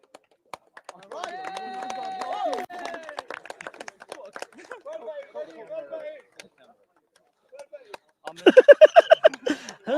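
Talk and faint birdsong give way to a brief, loud burst of clapping at the end as an audience applauds a player at a T10 cricket tournament awards gathering.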